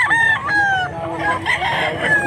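A stag rooster, a young cockerel, crows close by. Its strained, wavering calls rise and fall over about two seconds and mix with clucking.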